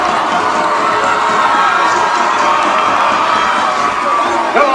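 A high school student section cheers at a Carmel vs. Ben Davis football game, a steady, dense roar of crowd noise and shouts running throughout, loud and continuous, with voices mixed in.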